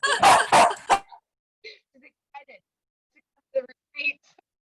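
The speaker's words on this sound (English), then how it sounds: "You'll have to excuse my dog." A dog barks a few times close by, followed by quieter scattered yips and snuffling noises with long silences between.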